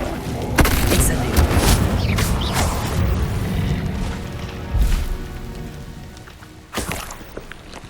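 Incendio fire spell being cast in Hogwarts Legacy, a burst of booming, crackling magic amid other spell effects, with sharp blasts near the start, around five seconds and again near the end over a busy game soundscape.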